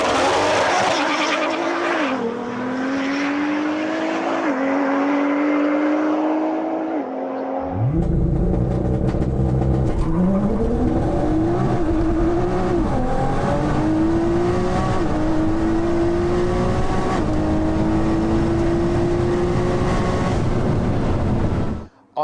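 A tuned Nissan GT-R drag car runs down a runway, its engine loud and close as it revs through several rising gear pulls, falls silent briefly, then launches again with climbing, roaring shifts before cutting off abruptly.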